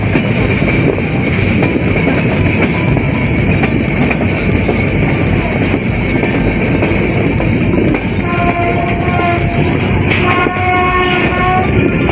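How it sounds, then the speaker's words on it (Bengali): The Rupsha Express, bound for Khulna, rumbles into Phulbari railway station loudly and steadily, and near the end a horn sounds in several short tonal blasts over the continuing roar. "খুলনা অভিমুখী রূপসা এক্সপ্রেস ট্রেনটি ফুলবাড়ি রেলওয়ে স্টেশন প্রবেশ করল"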